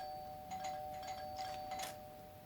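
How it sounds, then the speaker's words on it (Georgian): A telephone rings in a quiet room, a series of short bright electronic chimes repeating in a steady rhythm over a faint constant hum, fairly soft and with no one speaking. "ტელეფონის ზარის ხმა მესმის"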